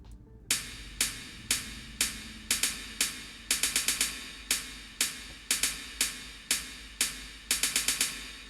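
A chorus drum pattern in a darkwave track plays steady hits broken by quick triplet and double hi-hat bursts, each one sharp and bright over a low, sustained synth bed.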